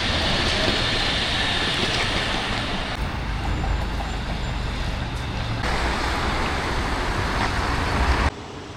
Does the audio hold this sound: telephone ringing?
no